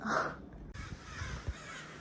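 Crows caw outdoors, a loud harsh call near the start, then several quieter caws against a steady hiss of background noise.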